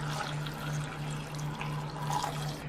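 Water is poured into an Instant Pot holding potato soup ingredients, a steady splashing gush that runs continuously for a few seconds with a low electrical hum underneath.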